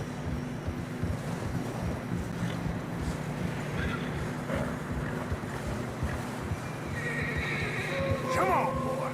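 In the video game Red Dead Redemption 2, horses whinny and snort in deep snow amid howling wind and shuffling hooves, with a loud neigh rising near the end; a voice talks underneath.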